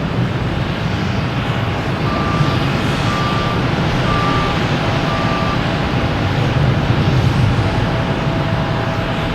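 A Red Sox livery airliner backing out at Boston Logan Airport, steady loud engine and ground-vehicle rumble with a short series of repeated reversing beeps partway through, no talking.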